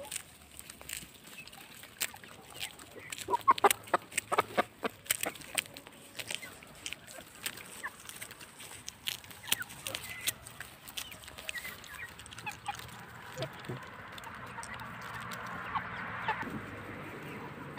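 Three-month-old Brahma chickens clucking and scratching nearby, with bursts of pecking and shuffling over a quiet background and occasional faint voice sounds.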